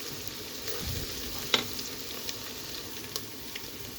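Chopped onion and garlic fry in a pan with a soft, continuous sizzle, broken by a few light stirring clinks, quiet and close, with no talking.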